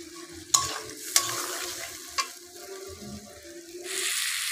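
Red chilli, coriander and cumin powders are stir-fried in a pan for a rohu fish curry with potatoes, with a few sharp spatula clacks against the pan over a low, gentle sizzle that swells near the end.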